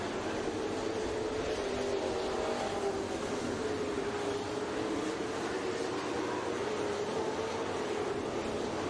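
Late model street stock race cars circling Huset's Speedway blend into a continuous, steady engine roar and drone, moderately loud and somewhat distant, with no talking.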